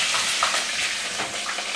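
Grated sweet and Spanish onions fry in hot oil, giving a steady close sizzle with soft stirring scrapes and crackles throughout.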